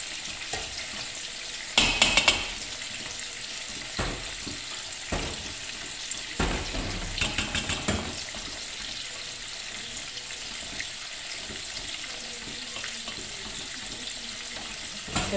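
Fresh pancetta sizzles steadily in a pan as a spoonful of flour is stirred in, with bursts of scraping and clattering from the stirring over a constant hiss.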